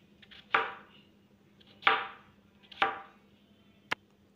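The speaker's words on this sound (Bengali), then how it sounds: "এবার এইভাবে আলুগুলোকেও ডুমো ডুমো করে কেটে নেব।" A knife chops potatoes into cubes on a board in a home kitchen, with three distinct, close chops at a slow, steady pace and a sharp tap at the end.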